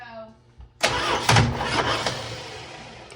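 A flooded car engine cranks and catches with a sudden loud roar, running rough and uneven for a few seconds before settling slightly.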